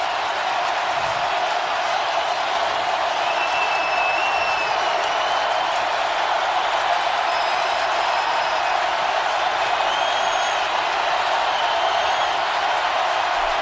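Steady roar of a stadium crowd during the Saints vs Eagles playoff game, a loud, dense wash of cheering and noise that holds constant throughout, with faint whistles above it.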